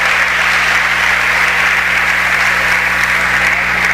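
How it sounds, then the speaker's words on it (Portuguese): Steady, loud applause from a church congregation fills the whole stretch, a dense, even wash of clapping with no breaks and no voices standing out. "Dê uma salva de palmas ao Rei dos Reis e Senhor dos Senhores"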